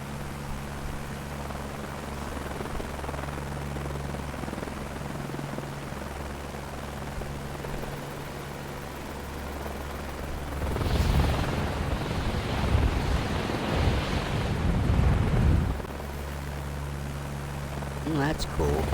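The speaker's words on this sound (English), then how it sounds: "You can hear the blades." Helicopter blades in Microsoft Flight Simulator 2024 produce a steady broad rumble and whoosh that swells louder for a few seconds in the middle, with faint talk mixed in.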